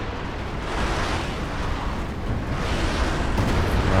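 An artillery barrage in a Company of Heroes 2 four-versus-four battle, with scattering rockets landing as a loud, continuous roar of rumbling explosions that swells toward the end, with no talk.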